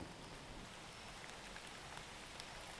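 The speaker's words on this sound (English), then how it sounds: "Oh, it just started raining." Rain begins falling outdoors, a faint, soft patter of scattered drops on surfaces forming a gentle hiss, quiet and continuous with no talking.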